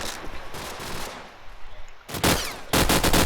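Automatic AK rifle fire in a Counter-Strike match at a LAN playoff, rapid bursts with a lull in the middle, then two loud sustained volleys near the end.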